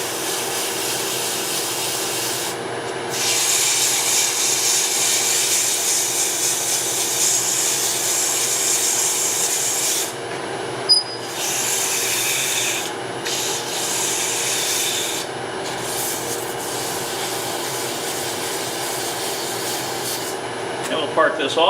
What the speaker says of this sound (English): Grab my sandpaper. Just do a a little 180 grit here for a minute.